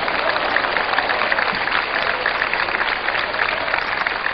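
Church congregation clapping in rhythm during a worship service, a loud, continuous wash of claps with crowd noise, muffled and lacking crisp highs.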